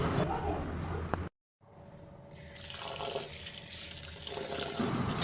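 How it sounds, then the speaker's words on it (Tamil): Raw rice is washed with water by hand in a kitchen, steady close splashing and swishing that stops briefly, then resumes as a continuous watery rush. "3 தடவை நல்லா தண்ணி விட்டு வாஷ் பண்ணி எடுத்துக்கலாம்"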